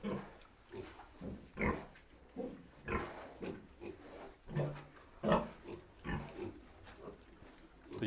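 Weaned piglets grunting in short, irregular bursts close by while eating, a steady rhythm of snorts and oinks like animals feeding together.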